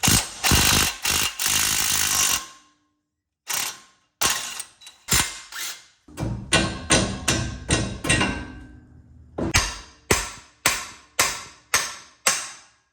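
Bolts being removed from a Ford F150 strut during a leveling kit install: a run of sharp metallic ratchet clicks and short bursts, separated by pauses, close and fairly loud, with no talking.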